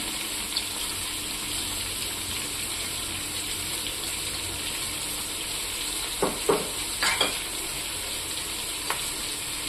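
Coriander seeds fry in a pan with a steady, broad sizzle throughout, joined midway by a few light clinks and stirring knocks, close and without talk.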